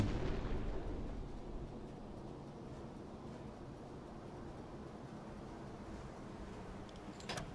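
A torpedo launching from a submarine in the video game U-Boat: a steady, heavy low rumble and rushing roar that fills the whole stretch, easing slightly midway, with no talking.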